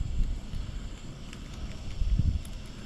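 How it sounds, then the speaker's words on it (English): Wind buffets the microphone in low, uneven rumbling gusts, swelling and easing over a few seconds. "Little windy, I hope that's not really affecting it."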